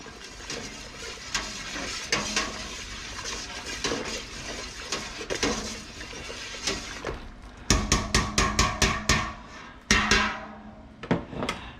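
Metal spoon scraping and clanking around a brew kettle as the final hop addition is stirred into hot wort with the flame off, steady clatter building to sharp, louder knocks near the end.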